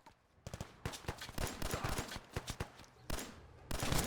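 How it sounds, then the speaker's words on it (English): Rapid bursts of gunfire from modded Fallout 4, sharp repeated shots in quick volleys with brief pauses between, loud and close, no talking. "Gunfights in Fallout 4 are going to sound quite epic now."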